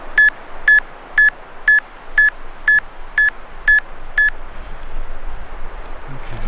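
A handheld EMF meter emits nine short, evenly spaced electronic beeps while detecting a magnetic field near trees, then goes quiet with faint background noise.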